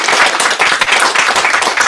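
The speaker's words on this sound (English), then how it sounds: "please join me in another round of applause" Loud, steady applause from a conference audience, many hands clapping together in a dense, continuous wash with no talking.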